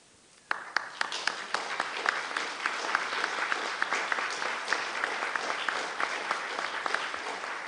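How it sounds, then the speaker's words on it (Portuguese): Audience in a heritage-week seminar hall applauding after a surprise samba performance, a sudden burst of clapping that starts sharply and continues steadily, moderately distant. "Vocês estão aplaudindo mais pela surpresa do que, evidentemente, pela qualidade da execução, né?"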